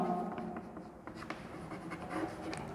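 Chalk or marker writing on a classroom board during a 10th-grade mathematics lecture, a steady scratchy stroking that runs continuously at moderate closeness in a reverberant room.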